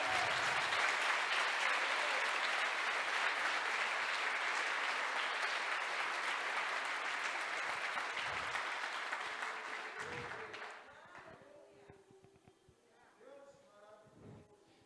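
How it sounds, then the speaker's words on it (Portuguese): Loud, sustained applause from a large crowd, steady for about ten seconds before fading out, leaving scattered claps and faint voices at the end. "Eu gostaria que você desse um aplauso ao Senhor Espírito Santo com mais força."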